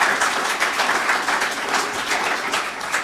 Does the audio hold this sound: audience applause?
yes